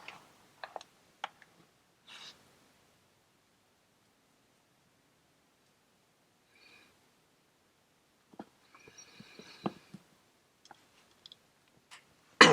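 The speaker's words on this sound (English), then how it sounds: "So let's crimp this one with the automotive type crimp." An automotive-type crimper squeezes a red wire splice, giving sparse, quiet clicks and a small cluster of ratcheting snaps near the end, with handling rustles in between and long silent gaps.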